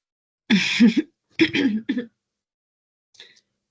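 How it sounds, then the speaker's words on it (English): A few rough coughs or throat-clearing bursts close by, two grouped together, then a faint short one after a pause. "I did try to chuckle, but ended up coughing."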